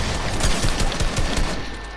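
Rapid bursts of gunfire in Fortnite box fight gameplay, loud and dense for about a second and a half before trailing off, with no talk.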